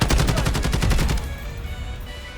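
Unsuppressed AUG rifle firing in Modern Warfare (2019): a loud, rapid automatic burst of about a dozen evenly spaced shots lasting just over a second, then a fading echoing tail.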